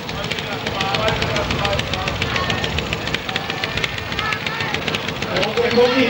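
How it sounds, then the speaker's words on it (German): A pulling tractor's engine revs up and roars continuously at a tractor pulling event in Verl, Germany, in 2000, with dense mechanical noise throughout and a commentator talking excitedly over it. "Oh, der kommt hier hinten auf Touren, der Motor."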